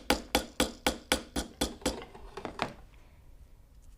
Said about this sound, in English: you can even hammer a little bit down onto your wire just so that it blends a little bit better